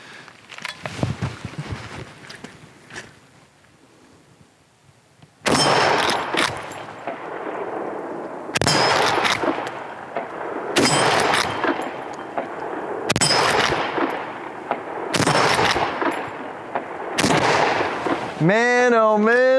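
Marlin 336 lever-action rifle chambered in 30-30, the Remlin version, fired outdoors in a string of about six loud shots spaced a few seconds apart, each a sharp blast with ringing decay, after a quieter stretch with faint voice.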